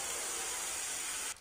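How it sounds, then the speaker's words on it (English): A spray bottle in Cafe Owner Simulator gives off a continuous bright hiss that lasts over a second and cuts off abruptly, loud and close with nothing else audible. "I'm spraying around your food."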